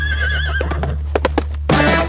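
A horse gives a loud, wavering whinny up close, followed by a few distinct hoof clops and then a burst of rapid galloping hoofbeats.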